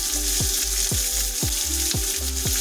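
Onion and green chili added to garlic already frying in a wok give a loud, steady sizzle, with regular scraping stirs about every half second throughout.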